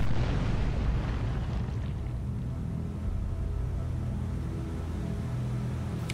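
A submarine firing a volley of missiles in the game Cold Waters, heard as a heavy, continuous low roar and rumble that fills the whole stretch without a break.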